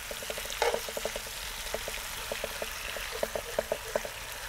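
Kashmiri style chicken fry cooking in a pan, a soft, steady sizzle broken by many small, irregular pops and crackles, close and quiet, with no voices.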